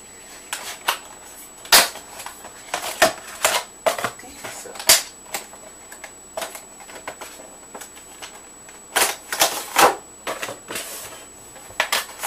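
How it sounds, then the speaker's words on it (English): Cardboard box being ripped open by hand, a series of sharp, close tearing and snapping bursts spaced irregularly, with quiet pauses between them. "Just rip my box."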